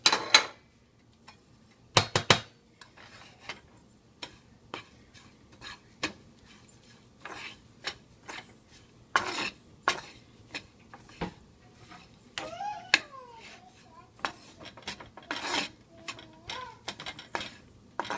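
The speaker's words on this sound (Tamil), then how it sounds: "இப்போ இதில் வந்துட்டு பார்லி மாவையும் ஓட்ஸையும் போட்டு வறுத்துக்கலாம்" Barley flour and oats dry-roasting in a pan for homemade chicken haleem, with a spoon scraping and clicking against the metal in quick, uneven strokes and short louder bursts, no one talking.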